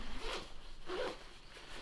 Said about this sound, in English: this part zips open